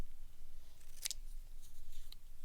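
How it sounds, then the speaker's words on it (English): Scissors make a single crisp snip through paper during a visual art lesson, with a faint second cut after it, against a quiet room. "because I'm holding the scissors in my right hand, I'm going to turn the paper so that I can cut my triangle with my right hand"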